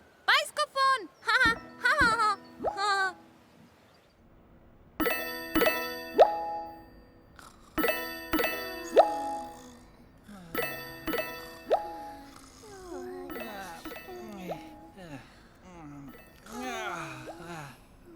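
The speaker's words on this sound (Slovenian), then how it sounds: "Potem je Lili slišala zvonjenje." Teletubbies Tubby phone ringing as a run of bright, bell-like chiming tones in several bursts, mixed with playful cartoon sounds and childlike voices between the rings.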